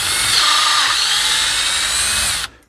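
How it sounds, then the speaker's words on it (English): A power drill bores holes into a sewer-pipe drum shell, a loud, steady high whine running without a break before cutting off abruptly near the end. "we'll drill that out there."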